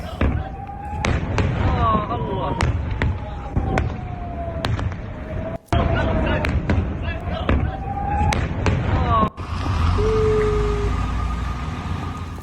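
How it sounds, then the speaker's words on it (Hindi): Repeated sharp missile blasts thud out one after another at a distance over Tel Aviv as sirens wail up and down and a voice talks over them. "तो एक के बाद एक तेल अवीव पर कई धमाके हो रहे हैं।"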